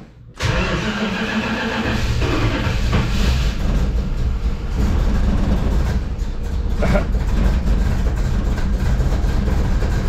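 A 1965 Plymouth Fury Wagon engine fitted with Sniper 2 EFI cranks and catches, then runs loud and steady with a rough, rich idle that rumbles on continuously at close range.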